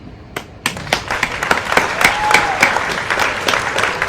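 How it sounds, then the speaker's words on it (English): Studio or small-audience applause and scattered clapping starts after a brief quiet moment and continues steadily for several seconds, with irregular sharp claps standing out over a dense, moderately loud clatter. "Let's give a round of applause to Dylan Mulvaney."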